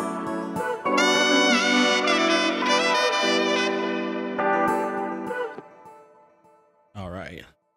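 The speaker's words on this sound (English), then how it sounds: "it's a saxophone, and I'm gonna play it again." A saxophone sample plays back in Logic Pro X for an Afrobeats track, a smooth sustained melodic phrase that fades out, followed by a brief voice at the end.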